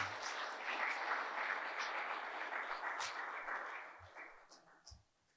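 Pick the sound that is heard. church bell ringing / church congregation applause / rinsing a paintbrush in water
church congregation applause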